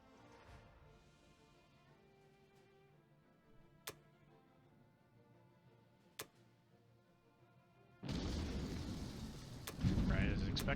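Video game battle sounds: faint sharp cracks of surprise shots punctuate a quiet stretch, then a loud rumbling barrage of bomber explosions erupts and keeps building to the end.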